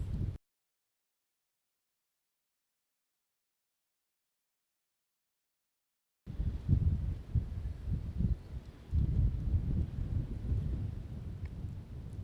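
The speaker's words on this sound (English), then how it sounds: "you can hear that wind kicking up there" Strong winter wind blowing snow outdoors during blustery weather; after a stretch of near silence, a loud, rough, gusting roar rushes in close to the microphone and keeps surging.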